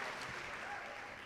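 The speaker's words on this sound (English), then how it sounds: "Let's give Swayze Joyner from Waynesboro one more round of applause for being Mississippi's Little Miss Hospitality." Audience at a Mississippi Miss Hospitality pageant final giving a round of applause, a faint, steady patter of clapping that fades slightly toward the end.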